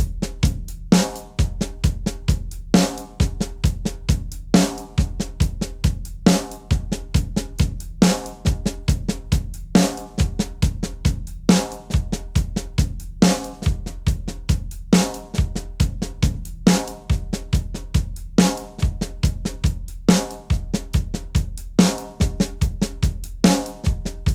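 A drum kit plays paradiddle grooves in 13/16, crisp repeated hits in a steady looping pattern with regular strong accents, close and alone.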